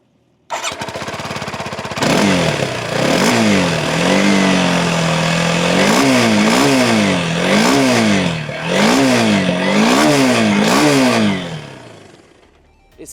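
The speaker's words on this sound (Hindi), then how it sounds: "इसका एग्जॉस्ट नोट काफ़ी रैस्पी और एंग्री है।" A Kawasaki KLX 230 dual-sport motorcycle starts and idles, then its engine is revved repeatedly in rising and falling blips, giving a loud, raspy, angry exhaust note close by before settling back and cutting off, with no talking.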